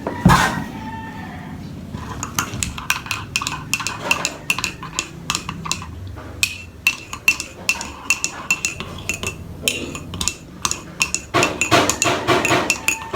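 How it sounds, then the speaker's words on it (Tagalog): Sharp metallic clinks and knocks tap out in irregular clusters, like a spoon against a cup or dishes being handled nearby, with no hammering from outside clearly stood apart. "May gumagawa sa labas, medyo maingay, may nagpupukpuk."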